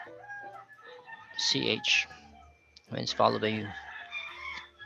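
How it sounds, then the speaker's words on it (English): Roosters crow in the background behind a person speaking close up, with drawn-out calls rising under and between the words. "the roosters are having a concert behind me"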